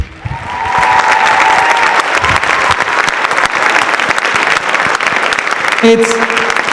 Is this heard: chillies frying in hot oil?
no